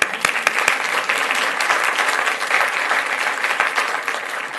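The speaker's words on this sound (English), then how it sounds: "let's give them one more round of applause" A crowd gives a steady round of applause for students at an evening recognition ceremony in Fort Worth, dense and sustained clapping that fills the room at an even loudness throughout.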